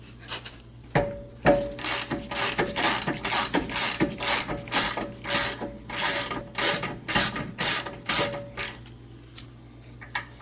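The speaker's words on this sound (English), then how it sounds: "Okay, so now I'm gonna undo this nut." A ratchet wrench clicks in steady, rapid strokes while undoing a shock absorber nut on a Toyota Sienna, loud and close, with a faint steady hum underneath and no talking.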